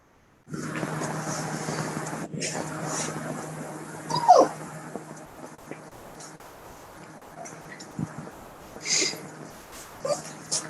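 A puppy whimpers and yips in a room during an online meeting, thin high whines breaking out every few seconds over faint background noise, fairly close but not loud.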